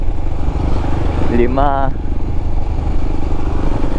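Several motorcycles ride past one after another on a highway toward Bicol, a steady rumbling engine drone filling the clip while a man counts along over it.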